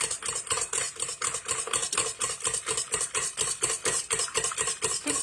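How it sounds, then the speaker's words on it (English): A whisk attachment stirs salted egg whites for a lemon meringue pie with a quick, steady rhythmic rattle, a few strokes per second, close and moderately loud throughout. "I have my whisk attachment here. I'm just gonna give these a good stir just to get them started."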